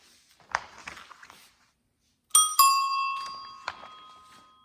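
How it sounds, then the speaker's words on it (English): An 80mm chrome ding-dong bell on a Gazelle Tour Populair bicycle is struck twice in quick succession, loud and close. It rings on with a long bright decay and one more tap follows, after a few faint handling clicks. "The loud 80mm chrome ding-dong bell is visually imposing."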